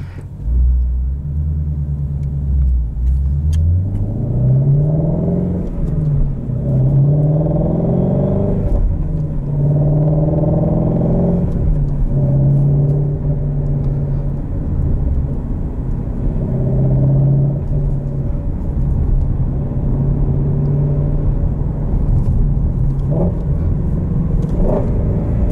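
A 2016 Shelby GT350 engine and exhaust rumble steadily from inside the car while driving, with rising and falling tones as it accelerates and shifts, loud and continuous throughout.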